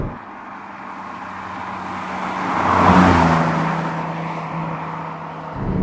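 A Porsche 718 Cayman GTS 4.0L drives on cold, mixed-grip roads. Its steady engine note swells to a peak midway, as if passing close or building revs, then settles back to a sustained drone.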